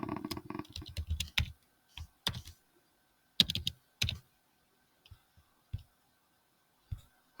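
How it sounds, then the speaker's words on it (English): Someone types a password on a computer keyboard, with quick close bursts of key clicks followed by sparser, isolated taps and pauses, and no voices. "So let me just input a password."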